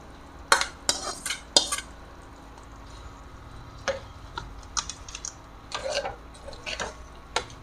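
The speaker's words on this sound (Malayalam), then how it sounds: "ഇതും കൂടി ചേർത്ത് ഇളക്കാം" A spoon stirs long beans into a simmering curry in a pot, giving irregular close scraping and clinking against the metal with short bursts and quieter gaps, no talking.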